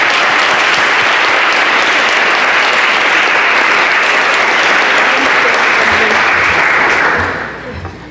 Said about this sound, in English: Again, can we give them another round of applause?